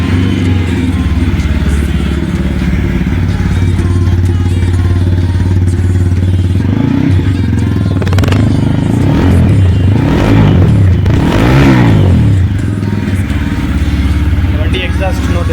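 A TVS Apache RTR 160 4V motorcycle idles with a steady, deep exhaust note, then revs in several rising and falling blips before settling back to idle, loud and close.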